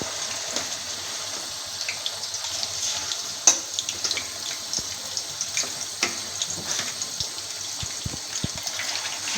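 Fish sizzles in hot oil in a frying pan over a medium-high flame for a fish curry, a continuous hissing crackle with scattered sharp pops and spits, no talking.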